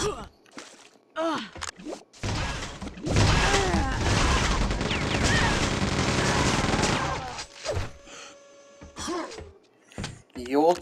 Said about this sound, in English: The old chain gun, eh?